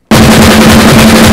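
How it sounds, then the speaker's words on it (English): Drum kit playing fast triplets, hands accenting alternately right and left against the kick drum, a dense, loud, driving roll with steady pulse and no talk. "since you're alternating, you're going to have accents on your right and your left alternating with the kick."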